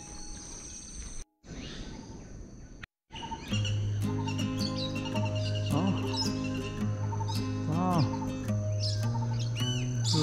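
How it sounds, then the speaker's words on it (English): Many different birds sing together in a forest in the morning, a dense layer of chirps, trills and whistles filling the scene, with a short exclamation from a person near the start. "It was the best morning for me to hear a lot of birds singing, different kind of birds singing."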